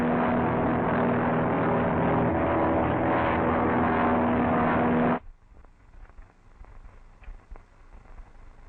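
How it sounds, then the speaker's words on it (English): A seaplane's propeller engine roars loud and close for about five seconds with a broad droning buzz, then cuts off abruptly, leaving faint background noise. "Dad's seaplane. Use that."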